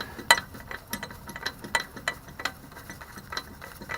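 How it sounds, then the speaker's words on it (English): A ratchet wrench tightens a truck brake chamber with a rapid run of sharp, close clicks, irregular in spacing and loudness. No one speaks. "then you put your wrench on it and tighten it down"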